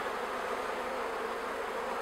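Honeybees in a hive during a queen replacement, a dense, steady buzzing hum close by that stays even throughout the short moment with no voices.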